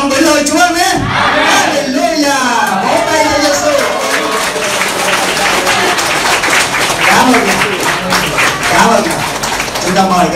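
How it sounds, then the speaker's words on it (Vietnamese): Vietnamese church congregation clapping during a worship service, loud rhythmic claps under lively singing and shouting voices, with cheers mixed in and the clapping continuing throughout. "Vỗ tay cho Giêsu."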